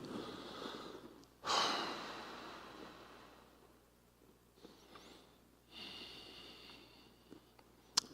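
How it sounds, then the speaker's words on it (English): A conference audience takes a deep breath together, heard as two soft, broad swells of breathing in and out in a large room, with no talking. "I'm going to ask all of you to take a breath"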